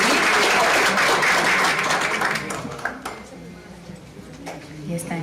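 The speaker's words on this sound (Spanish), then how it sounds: "Vamos a dar un fuerte aplauso por este momento" An audience applauds at a digital media congress, loud dense clapping at first that thins into scattered claps, with voices heard over the tail.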